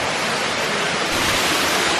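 Nauyaca waterfall in Costa Rica roaring as a loud, continuous broadband rush of falling water, close and steady with no voices over it.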